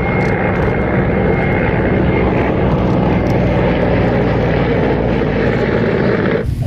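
A combat helicopter taking off, its rotor and engine making a loud, steady roar that fills the scene without a break and thickens slightly toward the end.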